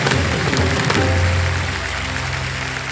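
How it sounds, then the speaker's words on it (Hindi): Dense, loud clapping from a large audience, a continuous wash of applause that holds steady throughout. "जोरदार तालियां बजाएं"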